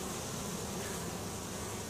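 Honeybees swarm and hum steadily at a busy hive, a dense, continuous buzz close by with no pauses.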